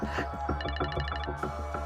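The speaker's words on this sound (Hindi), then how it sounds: "पता नहीं राजा सर ने फोन क्यों किया।" A telephone rings in a rapid electronic trill, with repeated bright pulses over a short burst, clear and close, with no talking.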